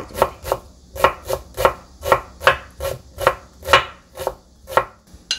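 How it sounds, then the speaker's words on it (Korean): Knife thinly slicing an onion on a cutting board, about a dozen crisp, even chops in a steady rhythm, close and clear with no voices. "얇게 썰어줘야 돼요."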